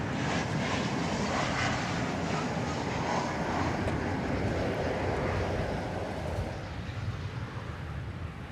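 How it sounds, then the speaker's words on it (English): A steady, loud roar of an Embraer E190 airliner from Mexico City at DFW Airport, broadband jet engine noise with wind buffeting that eases slightly toward the end. "from Mexico City, it's an Embraer E190"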